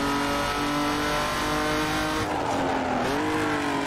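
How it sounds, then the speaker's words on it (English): The V12 Jaguar XJS race car of John Goss and Armin Hanna at Bathurst sounds out as a loud sustained engine note that drops and then climbs again as it revs, with a brief tyre-squeal character. "V12 Jaguar XJS of John Goss and Armin Hanna"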